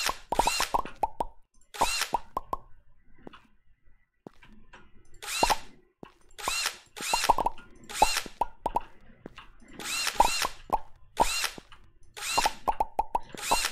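A drill digs through blocks in the video game Minetest, giving a string of sharp, plopping digital pops in short bursts separated by brief pauses, crisp and close with no talk over them.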